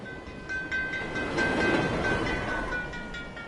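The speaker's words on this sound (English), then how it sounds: "we can't take too long on the side of this train" A train in the Assassin's Creed Chronicles: Russia video game on PS4 rumbles steadily, a broad rolling rail noise with a faint high whine, continuous and moderately loud throughout.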